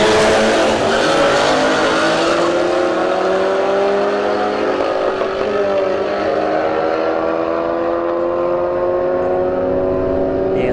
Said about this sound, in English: S197 Mustang versus a Civic Type R